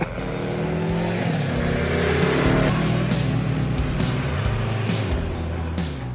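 The 1649 cc V4 engine of a Yamaha 1700 VMAX motorcycle revs loudly and close, rising and falling through several throttle blips over about six seconds, with no voices.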